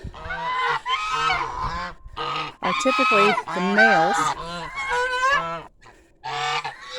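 Geese honk loudly and repeatedly in a noisy flock chorus, the calls overlapping in bursts with brief gaps, while a person talks briefly over them.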